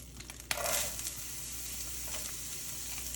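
Onions dropping into a spitting-hot pan for chicken fried rice burst into a loud sizzle that settles into a steady frying hiss, heard up close with nobody speaking.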